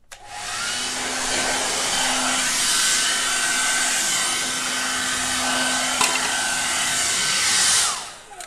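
A blast of air hisses continuously over a very liquid acrylic paint pour with no silicone, a steady broadband rush like a hair dryer that runs unbroken for several seconds before cutting off.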